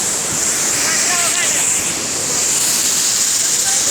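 The waterfall at Bilgaon roars as a dense, loud, unbroken wash of falling water, steady throughout at close range, with voices faintly beneath it.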